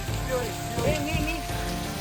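Steady rushing splash of water falling from small waterfalls at Rajgad Fort near Pune fills the clip, with a faint voice partly buried underneath.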